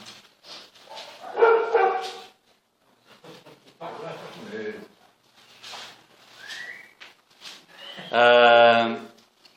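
A dog barks in scattered, irregular bursts between stretches of a person speaking, with a louder barking spell near the end and a brief whistle-like tone in between.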